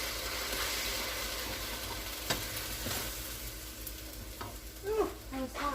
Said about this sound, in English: We'll put my onions, red peppers and green peppers, my vegetables, and stir fry it in with the meat.